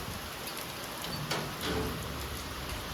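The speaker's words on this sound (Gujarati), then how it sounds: "તો વરસાદે બગડાટી બોલાવી દીધી આજ તો" Steady rain pours down in a constant dense hiss, heavy and unbroken throughout.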